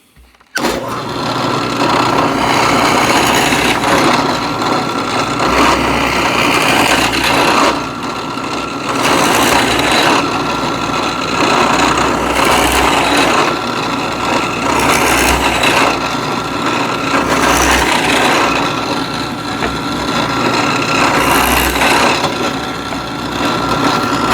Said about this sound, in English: So let me just drill these holes all the way through.